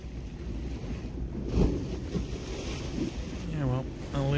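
Waves from a passing boat's wash roll in along the River Mersey at Columbus Quay, Otterspool, making a steady, close washing rumble mixed with wind buffeting. A voice speaks briefly near the end.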